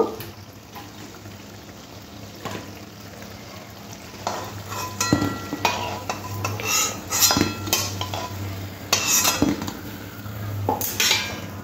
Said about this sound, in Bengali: বাকি যেগুলো আছে সেগুলোও ভেজে নেব।